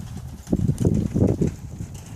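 A horse trained by a handler moves back into a run, its hooves clip-clopping in a quick, uneven patter of several muffled thuds, fairly close and alone with no talk.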